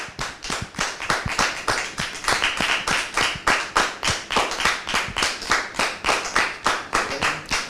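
An audience claps in unison to welcome a guest onto a stage, loud and close, a strong steady rhythm of synchronized claps that carries on without pause.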